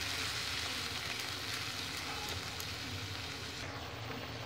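A continuous dense sizzle of spice paste frying in a pan, steady and fairly close, with a few faint clicks scattered through it.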